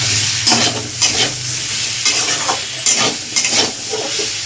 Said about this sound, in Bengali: হলুদ দিয়ে কিছুক্ষণ নেড়ে নিয়েছি